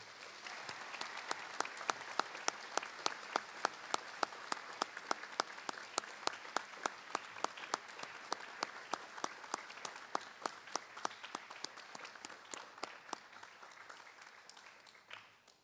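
A school board meeting audience applauds student wrestlers, including a state wrestling champion. The clapping is steady and fairly close, with some sharp individual claps standing out, and it runs the whole time before tapering off at the end.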